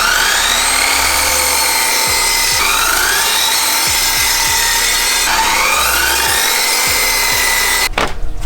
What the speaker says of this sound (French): Là, du coup, on va scier les accoudoirs.